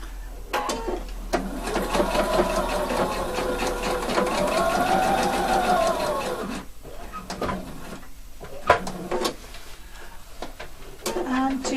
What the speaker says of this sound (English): then I stitch it here and to that point 1 centimeter of seam allowance